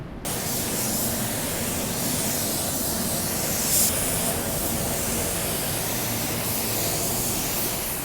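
Continuous hiss of a spray gun spraying car paint, steady and loud throughout with no voices.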